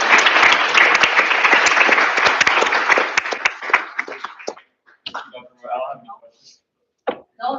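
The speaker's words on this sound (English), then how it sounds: "Well, round of applause." Audience at a student government senate meeting applauding loudly for several seconds, the clapping thinning into scattered claps with brief voices afterward.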